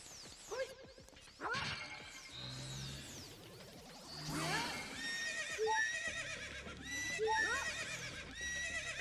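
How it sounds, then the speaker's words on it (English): Horses in the Ocarina of Time video game neigh and whinny repeatedly, bright rising-and-falling calls layered over one another, with some hoof clatter and a few crashing hits mixed in. "I just wanted you guys to hear more happy horse noises"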